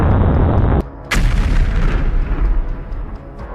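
A missile strikes a Ukrainian air defense system, producing loud, close, booming blasts: a heavy rumbling roar, a sharp crack just after the first second, then a long, churning rumble that fades out.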